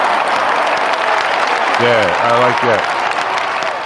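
Steady clapping from a group fills the whole stretch at an even level, while a voice briefly speaks over the middle.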